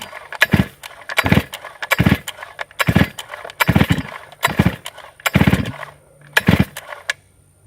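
Repeated pulls on the starter cord of a flooded chainsaw, about eight sharp ratcheting rips in steady rhythm, close and loud, with no engine catching.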